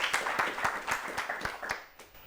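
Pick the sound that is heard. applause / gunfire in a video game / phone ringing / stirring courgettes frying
applause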